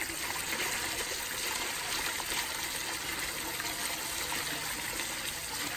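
Steady, loud rush of water pouring from an opened valve while an 18 ft Intex Coleman above-ground pool is being set up, a continuous gushing flow with no pauses.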